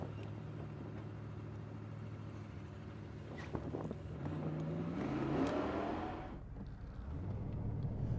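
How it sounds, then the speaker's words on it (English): Engine of a 1982 Chevrolet Corvette CFI in very good condition while driving, a low steady hum that swells as it accelerates mid-run, dips briefly, then settles back, heard from inside the car. "we're in the 1982 Chevrolet Corvette, and this thing drives like it's brand new"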